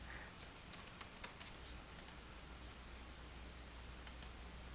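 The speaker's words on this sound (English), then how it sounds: "typing the partial payment amount." Quick, light clicks of a computer keyboard as a partial payment amount is typed into QuickBooks Desktop Pro 2021, coming in short bursts over a faint steady hiss, close and fairly quiet with no talking.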